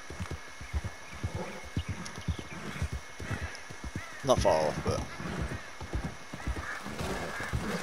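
Horse hooves clip-clop at a steady walking rhythm in Red Dead Redemption 2, with a sharp whinny near the middle, while someone talks over the game sounds.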